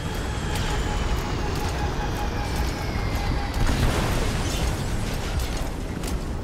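In Metal Gear Solid 5, a rocket strikes a helicopter, giving a rumbling blast that swells midway over continuous rotor and mechanical noise, loud and dense throughout.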